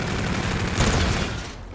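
Rapid gunfire rattles in Call of Duty: Infinite Warfare, a loud, dense burst of shots that swells briefly and then tapers off.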